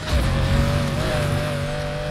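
Steady high-revving engine drone of a Lamborghini Countach racing in Need for Speed Heat, loud and continuous with a sustained whine and slight pitch waver throughout.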